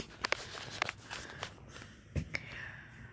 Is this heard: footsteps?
yes